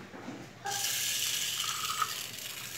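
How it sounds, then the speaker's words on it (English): Water gushes steadily into a vessel for soaked moong dal salad preparation, a loud continuous pour starting after a brief quiet moment and running to the end, with no talk. "Now take the water and pour it in the vessel."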